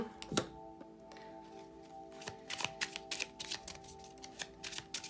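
Tarot cards are shuffled close by in quiet, crisp riffling bursts and flicks, irregular and repeated over a faint steady hum, with no talking.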